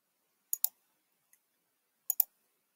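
Computer mouse clicks while working in Xero accounting software: two quick pairs of sharp, close clicks about a second and a half apart with a faint tick between, in an otherwise silent room.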